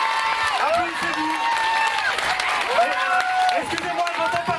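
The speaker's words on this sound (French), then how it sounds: "applaudissez-vous." Clapping from an audience at a community dictation event in Brétigny-sur-Orge, steady applause mixed with someone talking over it and bursts of crowd noise.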